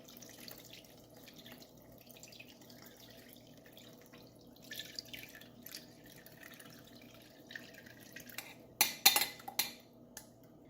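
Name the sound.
lemon juice poured through a strainer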